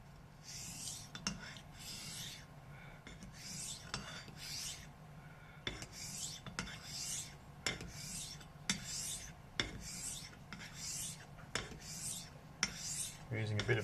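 A knife bevel is set on a Japanese natural sharpening stone after a #600 stone, with steady back-and-forth rasping strokes under firm pressure, about one per second, close and fairly quiet, with no talking.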